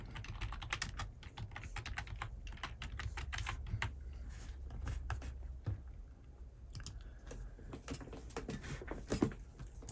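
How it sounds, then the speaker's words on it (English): Rapid, uneven clatter of keys on a computer keyboard, close and fairly quiet, continuing in bursts for about ten seconds with no voices. "So let me type that in."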